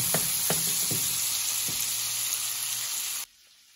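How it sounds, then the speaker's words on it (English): Steady sizzling of meatballs frying in a hot pan, with a few soft clinks of a utensil, ending abruptly in near silence. "Make sure that they're able to move in the frying pan."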